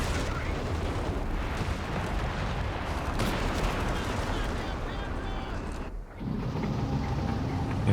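A Wespe artillery barrage in Company of Heroes 3, a continuous dense roar of shelling and gunfire with rumbling blasts, loud and sustained, briefly dipping before resuming, mixed with battle noise and some voices.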